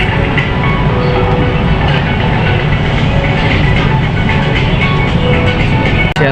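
A driverless Malaysia MRT metro train runs loudly and continuously, with a dense rumble and rail noise heard from nearby, without speech.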